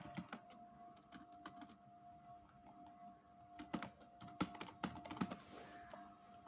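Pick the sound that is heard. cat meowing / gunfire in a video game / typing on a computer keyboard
typing on a computer keyboard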